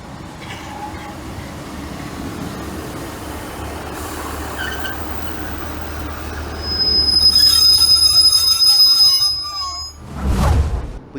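A train rolls past at a station in Wigan, starting as a steady rumble, then swelling with shrill, sustained wheel squeals and screeches before a loud whoosh as the carriages pass close.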